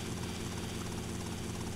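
A helicopter in the video game GTA Vice City drones with a steady, loud rotor and engine roar that fills the whole moment without a break.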